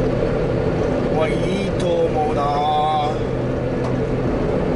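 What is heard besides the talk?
Subaru mini truck engine running while driving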